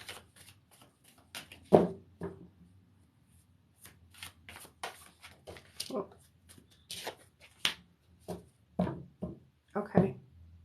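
Tarot cards being shuffled by hand in repeated quick riffling bursts, close and fairly quiet, with short pauses between rounds and no talking.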